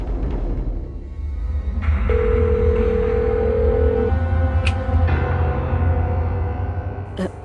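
A telephone in a Hindi TV drama scene gives a steady electronic dial or ring tone held for about two seconds against a constant low hum, with a few short clicks around it.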